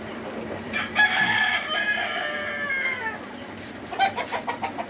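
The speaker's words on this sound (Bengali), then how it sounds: "মুরগির ঘরে আসছে" A rooster crows once in a layer chicken house, a clear drawn-out call over the quiet background murmur of hens, followed by a few short clucks.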